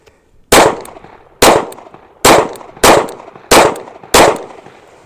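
Six loud, sharp pistol shots from a SIG P365-XMACRO fitted with a JTTC compensator, fired at a steady pace about once every 0.7 seconds. Each crack is followed by a short ringing decay, and no one speaks between them.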